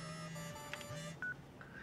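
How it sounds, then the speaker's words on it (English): Short electronic beeps and tones sound as an email notification ringtone in the Paper Mario: The Thousand-Year Door video game. The quiet chime sits over a faint background hum. "Does he have a special ringtone for Princess Peach?"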